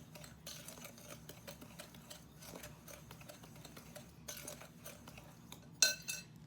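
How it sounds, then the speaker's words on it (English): A spoon stirring cinnamon into sugar in a bowl, quiet repeated scraping and light clinks, a brighter clink near the end, no talk. "I like to mix my cinnamon in with my sugar"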